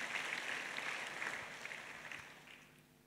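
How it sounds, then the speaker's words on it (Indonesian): A church congregation claps together in a steady, sustained round of applause that fills the hall, then slowly fades toward the end. "Mari kita berikan tepuk tangan buat Tuhan Yesus."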